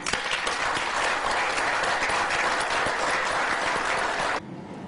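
Conference audience in Congo-related lecture hall bursts into steady, dense applause, loud and continuous for over four seconds before dropping off abruptly to quieter room noise.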